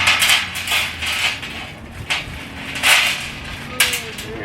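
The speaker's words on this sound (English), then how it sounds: "That's the cotter pins. Man, I just made a mess." Spilled metal cotter pins rattle and clink against a hard surface in a home workshop, a few bright scattered bursts of small metallic clatter that rise and settle, up close.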